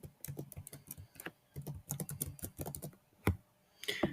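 Someone types an identity-card (CNIC) number on a computer keyboard, making close, crisp key clicks in quick irregular bursts with short pauses between.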